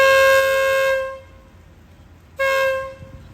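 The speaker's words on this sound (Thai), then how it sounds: "ปล่อยขบวน40ออกสุราษฎร์" A train horn on a train departing Surat Thani station blows two loud, close blasts: a long one, a pause, then a shorter one, with nothing else heard.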